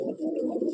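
A Madrasi pigeon, an aggressive old-bloodline bird in a loft, gives a low throaty coo that rolls on continuously for under a second, close and clear with no talk.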